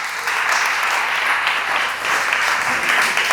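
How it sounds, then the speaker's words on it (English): A school audience gives two volunteers a loud, sustained round of applause at a talk about raising teens, the dense clapping holding strong and even throughout. "Give these two a massive round of applause for that"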